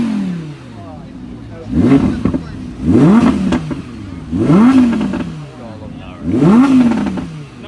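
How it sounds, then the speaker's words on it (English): A car engine with an open exhaust revs hard four times at a car meet, each rise and fall loud and close, with people talking around it. "Open exhaust. Press the exhaust one."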